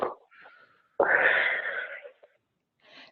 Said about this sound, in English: exhaling with your mouth